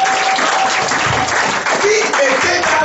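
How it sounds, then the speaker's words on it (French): A church congregation applauds during a sermon, loud continuous clapping mixed with voices and cheering throughout the short stretch. "est-ce que quelqu'un peut applaudir la gloire de Dieu?"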